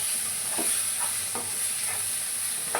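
Onion and tomato roast in a pan with a steady faint sizzle. A spoon scrapes through them in slow, evenly spaced strokes, about five times.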